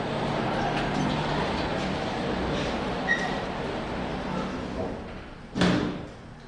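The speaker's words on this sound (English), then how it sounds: "Doors closing." Hydraulic Otis lift doors at a train station slide shut under a low background hum, ending in a single solid thud of the doors meeting near the end.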